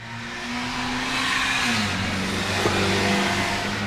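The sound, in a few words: car engine revving through gears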